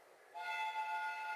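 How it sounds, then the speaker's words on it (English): A train pulls into a station in a Sherlock Holmes video game, faint and steady, with a long sustained whistle-like tone appearing partway through and holding to the end. "The train is arriving at the station."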